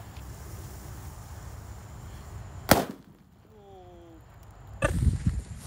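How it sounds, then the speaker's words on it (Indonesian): A bundled Colorful Thunder firecracker bursts outdoors with one sharp loud crack, followed by crackling and a second burst of popping near the end over steady wind or background noise. "Lanjut kita nyalakan mercon buntelan Colorful Thunder"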